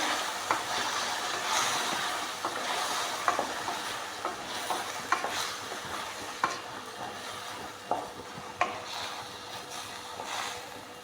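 Four chopped tomatoes fry in a pan for tomato gojju, a steady close sizzle broken by repeated sharp scrapes and taps of a spoon stirring against the pan.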